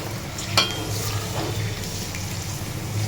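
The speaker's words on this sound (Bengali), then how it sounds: "এই দেখুন এখন তেলে ভেজে নিচ্ছি ফুচকাগুলো" Fuchka (puri shells) deep-frying in hot oil in a home kitchen, a steady close bubbling sizzle running throughout with one brief clink near the start.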